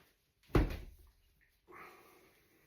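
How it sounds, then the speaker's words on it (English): A freshly tumble-dried towel goes into a household drawer, which shuts with one solid thump followed after a pause by a softer sliding scrape, close by in a quiet room. "So that can go straight in the drawer."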